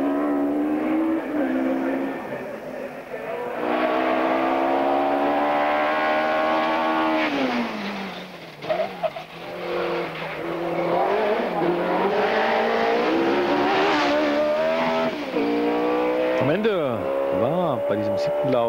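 4.0-litre race cars at the Shelsley Walsh hill climb, engines loud and close with rising and falling revs as they accelerate up the course, a brief dip midway and a sharp pitch sweep near the end.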